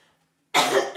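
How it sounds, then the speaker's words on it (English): A single short, loud cough bursts out close to the microphone after a moment of near silence in a lounge setting. "Excuse me, I do need to cough."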